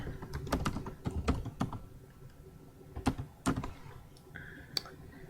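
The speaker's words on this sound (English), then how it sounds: "And then I'll type in my options." Typing on a computer keyboard while filling in options for a Google Forms multiple choice question, with irregular bursts of close, crisp key clicks and short pauses between them.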